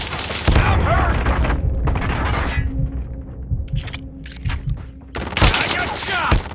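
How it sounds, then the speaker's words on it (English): Gunfire in Call of Duty Mobile, loud sustained automatic bursts near the start and end, with sharp single shots and game voice callouts in the quieter middle stretch. "I got shot!"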